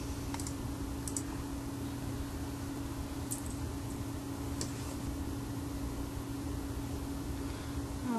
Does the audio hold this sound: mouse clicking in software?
yes